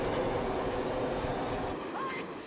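A subway train arrives in the 1971 film The French Connection, a loud steady rumble and rattle of rolling cars that holds close and then eases off near the end.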